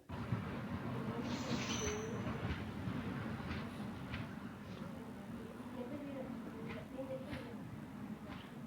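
A train brakes on rail tracks, a sustained low rumble with faint wheel squeal and occasional clacks, moderately distant, running under a speaking voice.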